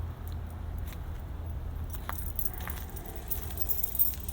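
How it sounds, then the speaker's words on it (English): A janitor's ring of keys jangles at the waist while someone walks along a zoo path, irregular metallic clinks over a low traffic rumble, close but fairly soft. "you can hear all those janitor keys on me"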